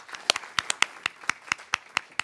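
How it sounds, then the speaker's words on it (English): A small group of hands claps sparsely and unevenly, sharp separate claps spread across a couple of seconds, fairly close, for six public radio station staff at a business summit. "So I want to give you guys another applause."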